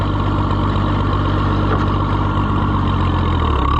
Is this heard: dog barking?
no